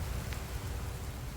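Steady rain falls outdoors beside a huge old oak tree, a dense, even hiss with no pauses and no voices.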